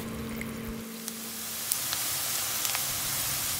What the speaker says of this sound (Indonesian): Habis itu kita goreng juga petenya sampai kering, sampai kulitnya kriuk-kriuk